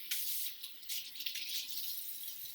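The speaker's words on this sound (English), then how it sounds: "We need to wash our hands for about 20 seconds with a good lather." A kitchen or bathroom tap runs steadily while hands are washed, a continuous close splashing hiss with slight fluctuations and no talking.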